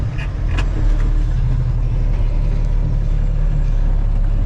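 A car coasts in neutral with the clutch in, giving a loud, steady low rumble of road and engine noise with wind hiss on top and no talk.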